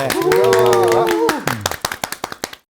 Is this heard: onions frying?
no